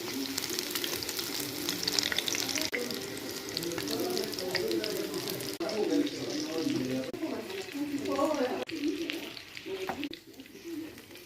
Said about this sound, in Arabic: نقلب البانيه.